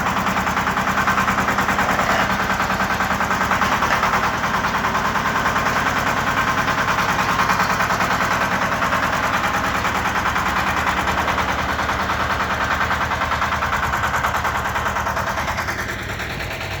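A small diesel engine of a Shifeng SF244B four-wheel-drive mini tractor runs loud and close with a rapid, steady chugging beat, holding constant before easing slightly at the end.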